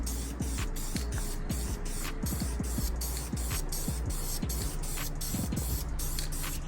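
Spray paint is misted in light first coats onto an LS valve cover, a steady broadband hiss with short pauses between passes, close and fairly loud, with no talking over it.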